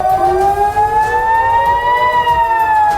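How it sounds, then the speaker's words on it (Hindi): An air raid siren in the town of Metula, northern Israel, wails steadily with a rising, sustained tone and strong harmonics, filling the whole stretch without any voices. "उत्तरी इजराइल के मेतुला शहर में सायरन बजने लगे"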